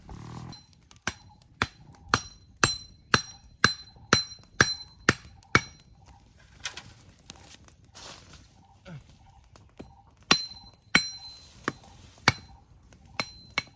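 Sharp metallic hammer strikes ring out in a steady rhythm as a base is hammered in at a bamboo house, a dozen or more blows close by, pausing midway before resuming, with faint voices underneath.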